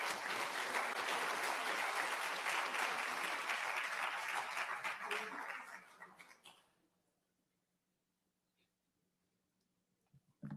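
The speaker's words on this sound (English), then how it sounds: "Let's give him a round of applause." Audience applause at the opening session of an international human rights summit, a dense sustained clapping for about six seconds that fades away into near silence.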